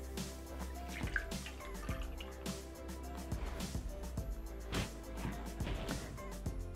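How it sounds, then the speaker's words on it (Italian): Water poured into a Thermomix (Bimby) bowl while cooking orange pork loin, heard as scattered drips and splashes with faint trickling and a low hum underneath, fairly quiet and close. "Versiamo l'acqua."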